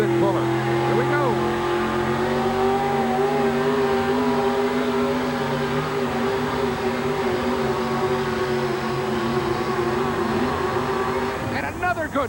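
Monster truck engine pulling a weighted sled at a 1988 indoor truck pull in Kansas City, a loud sustained roar with steady harmonic drone for the whole stretch, over arena crowd noise and announcer commentary.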